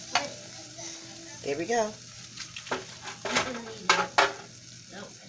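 Pac-Man-shaped grilled cheese sandwich cooking in a pan gives a faint, steady sizzle, with scraping utensil clicks and a speaking voice coming over it.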